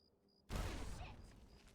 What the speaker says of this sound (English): That blew up the mines too